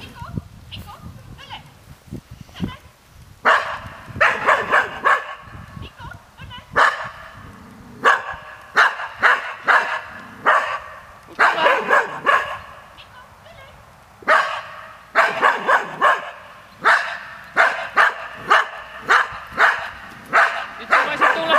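A dog barks repeatedly in bursts during a character test outdoors, loud sharp barks in rapid clusters separated by short pauses, with people talking at times between them.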